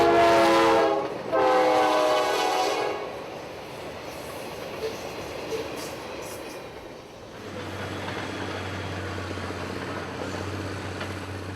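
Work train extra hauling company ballast passes at Hawthorne, opening with loud horn blasts, then a fading rumble of wheels and cars that gives way to a steady low drone as it rolls on.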